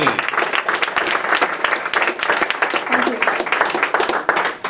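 Studio audience applauding for a band in a radio studio, dense steady clapping close by for several seconds.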